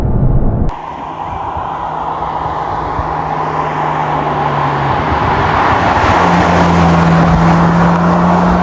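Ferrari 458 Spider cruising in wet mode, a subdued, steady engine hum and road roar from inside the car, gradually swelling slightly, with no talk.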